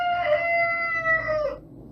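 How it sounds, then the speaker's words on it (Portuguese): A rooster crows once in a long, drawn-out call lasting about a second and a half, loud and close, with nobody talking over it. "ele ouviu um galo cantar a alto e bom som"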